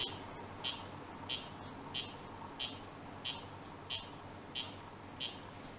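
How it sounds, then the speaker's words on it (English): A series of nine evenly spaced high-pitched electronic beeps from a roulette computer, short and sharp, repeating about every two-thirds of a second over a quiet background. "So I'm gonna press and hold for 9 beeps."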